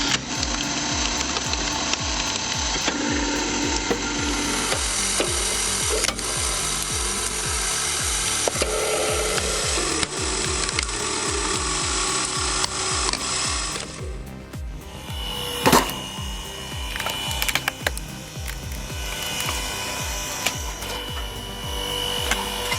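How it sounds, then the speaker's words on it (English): A firewood splitter machine works through logs, a loud continuous mechanical drone with rapid rhythmic chopping and grinding, shifting in tone midway and punctuated by occasional bangs. "the reset feature on this wood splitter is revolutionary"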